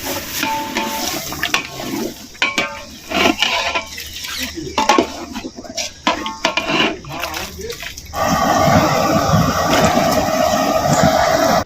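Mutton broth is poured into sautéed masala in a pot and stirred, with scraping and clinking of a ladle, then a steady rushing pour, all close by under some speech.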